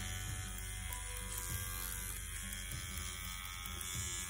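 A CNC WE wireless tattoo machine runs with a steady, close electric buzz and hum, constant and even throughout with no talking.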